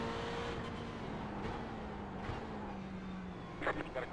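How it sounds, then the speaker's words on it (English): GT3 race car passing in the iRacing sim at Barcelona, a moderate engine drone rising and falling, with a few sharp bursts near the end. "Got a car on the left."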